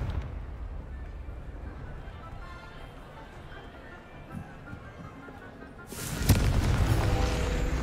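In the Hogwarts Legacy game, a Confringo explosive spell lands: low rumbling ambience gives way to a sudden loud blast near the end that carries on as a sustained crackling roar.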